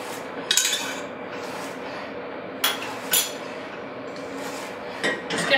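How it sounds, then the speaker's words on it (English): A metal spoon stirs honey in a pan, clinking against the sides in a few sharp, close taps spaced irregularly over a low steady background. "Just give it a little stir."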